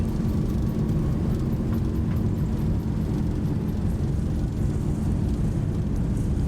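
Boeing 737 thrust reversers roaring during landing rollout in X-Plane, a loud, steady low rumble of engine noise that holds constant across the whole stretch.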